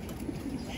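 Soft, low pigeon coos repeat briefly against a steady background hum, close by, inside a pigeon loft.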